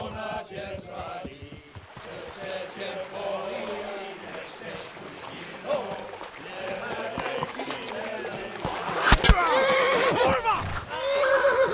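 Horse in the game Kingdom Come: Deliverance whinnying and neighing amid galloping hooves and action noise, with voices talking over it throughout and a loud burst near the end.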